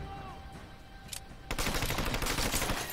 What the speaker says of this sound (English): Shooting from the windows.